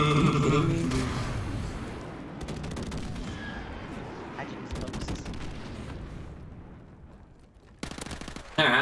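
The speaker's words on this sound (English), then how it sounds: "He called an airstrike!" Heavy gunfire and booming blasts from an airstrike in Call of Duty Modern Warfare Remastered multiplayer, loud and dense at the start, thinning into scattered shots and rumble, with a sharp burst near the end.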